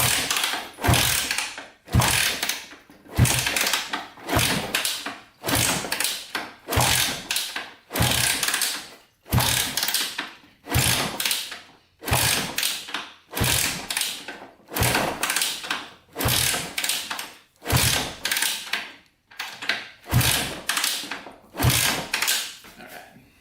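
A Honda 200X engine is kicked over repeatedly with the throttle open, making a steady run of about twenty evenly spaced, close mechanical strokes.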